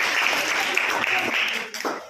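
A group claps together during a general knowledge quiz, a dense patter of hand claps that holds steady and then thins out and fades near the end.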